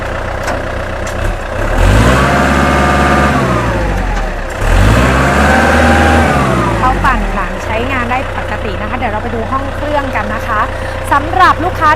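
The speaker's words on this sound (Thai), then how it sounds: "ไปดูการทำงานของเพาหลังเพาปั่นหลังนะคะ" A used Kubota L4508DI tractor running with a rear rotary tiller: a loud diesel engine revs up and down twice in rising and falling swells, then settles to a rougher idle while a voice speaks over it.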